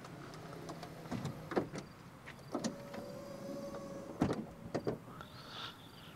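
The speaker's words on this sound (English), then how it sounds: "Now, the roof as well comes off. No, it actually retracts back." A 2021 Corvette Stingray C8 roof retracting, a quiet electric motor whirr with soft clicks and clunks of panels moving and latching, heard close with occasional mechanical knocks over a low hum.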